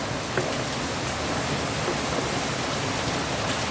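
Steady rain falling during flooding, an even, hissing wash of drops that holds at a constant moderate level with no pauses and no voices over it.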